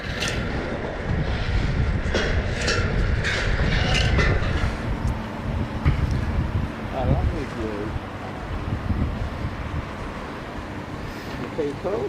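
Wind buffets the microphone high up on the Big One roller coaster track at Blackpool Pleasure Beach, a loud steady roar under people talking nearby.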